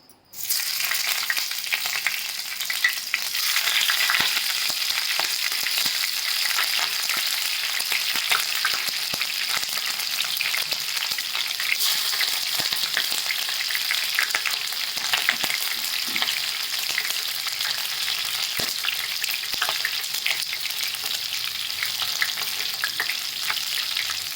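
Stuffed capsicum (bell peppers) frying in hot oil over a low-to-medium flame, a steady, loud, dense sizzle that holds constant for the whole stretch with no talking.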